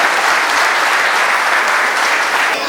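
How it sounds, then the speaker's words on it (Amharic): At an Easter program, an audience applauds for a sister in a dense, loud, sustained round of clapping that holds steady from start to finish. "አጨብጭቡላት ለእህታችን።"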